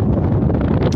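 Steady gusting wind on a desert cliff side about 100 feet up buffets the microphone with a low roaring rumble, loud and close, with no other clear sounds.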